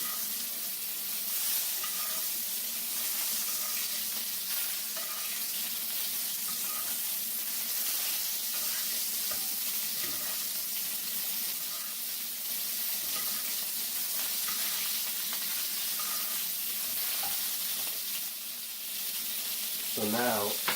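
Scallops and lobster tail sear in hot oil in a pan, giving a constant soft sizzle and hiss at moderate level, with occasional faint clinks and no talking.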